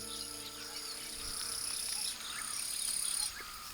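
Swarm of locusts feeding in reeds of the Volga Delta: a faint, steady high-pitched insect buzz and chirring that swells and fades in short waves, with no voices.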